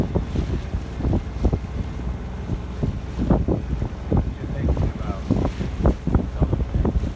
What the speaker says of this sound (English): The ferry to Nanaimo out of Horseshoe Bay.